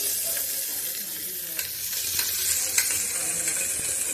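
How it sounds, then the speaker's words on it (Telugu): Tempering for moong dal sizzles in a hot pan, a steady close frying hiss with occasional clinks and stirring scrapes. "ఇప్పుడైతే తాలింపప్పుకి అయితే తాలింపు వేస్తున్నారు."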